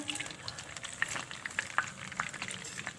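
Donuts shallow-frying in hot oil produce a soft, steady sizzle with scattered small pops and crackles throughout, fairly quiet and close, with no voices.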